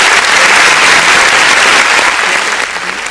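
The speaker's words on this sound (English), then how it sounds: "Let's clap, let's clap," Audience applause at a Sunday inspirational talk show, dense and loud steady clapping from a crowd that fades slightly toward the end.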